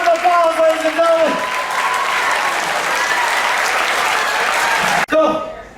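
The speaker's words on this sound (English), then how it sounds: "Give these two guys a round of applause, ladies and gentlemen." Audience applause aboard a Carnival cruise ship during a show, loud sustained clapping from a crowd with a voice talking over the start, cut off abruptly near the end.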